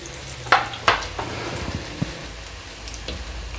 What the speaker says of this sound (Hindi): अब मैं इसके अंदर बहुत ही एहतियात के साथ कबाब डाल दूँगी।